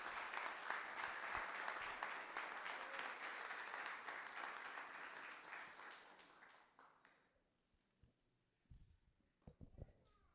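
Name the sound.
children clapping in church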